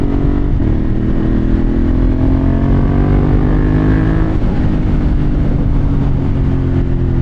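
A motorcycle engine drones loud and steady, rising slightly in pitch as the bike pulls under throttle, with heavy wind rumble throughout.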